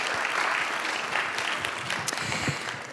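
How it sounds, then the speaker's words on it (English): Conference audience giving a round of applause during closing keynotes, a steady, fairly loud rattle of many hands clapping with a few sharper claps near the end. "Could we give Mr. Muesli a round of applause?"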